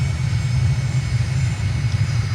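An airplane touching down and braking in a flight simulator game, a steady loud engine drone with a deep rumble holding evenly throughout.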